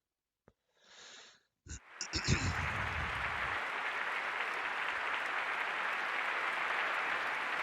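Raucous crowd applause used as a sound effect in a visual novel game, starting after a couple of brief soft sounds and swelling into steady, loud clapping that continues to the end.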